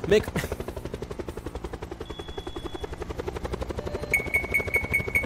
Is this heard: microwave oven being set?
no